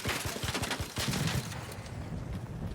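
Rapid gunfire in the ARC Raiders video game, a burst of sharp repeated shots with some louder cracks, fairly close and continuous over the whole stretch.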